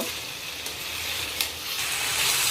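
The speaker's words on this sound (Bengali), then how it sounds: "এবার 4 থেকে 5 মিনিট আরেকবার সুন্দর করে আস্তে আস্তে নাড়িয়ে এটাকে কষে নেব।" Chicken kosha sizzles steadily in hot oil while being slowly stirred, a close, continuous hiss and crackle with occasional scraping from the stirring.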